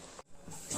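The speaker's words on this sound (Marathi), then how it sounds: "आता बाकीचे आपण पटापट तळून घेऊया" Vadas made with palmyra fruit pulp frying in hot oil, giving a steady soft hiss and sizzle that briefly dips, then swells louder toward the end.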